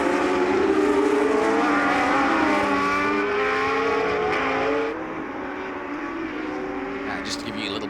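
A historic 1979 Ensign MN179 Formula 1 car races at Sonoma, its engine a steady high-pitched wail with shifting tones, then easing lower, under continuous commentary.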